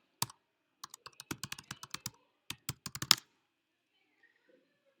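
A password typed on a MacBook keyboard: quick, close, quiet key clicks in two short bursts separated by a brief pause, then silence, with no voices.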